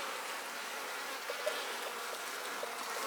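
Honey bees buzz on a hive frame in bad weather, a close, continuous swarm hum with faint individual wingbeats rising and falling, no voices.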